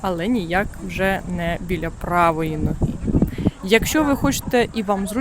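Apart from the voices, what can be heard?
No everyday noises stand out.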